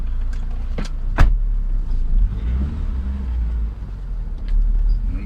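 Car with a B20 VTEC engine idling and rumbling low and steady, with a few sharp clicks and knocks and slight swells in engine noise, no talking.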